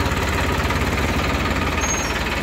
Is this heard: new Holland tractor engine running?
yes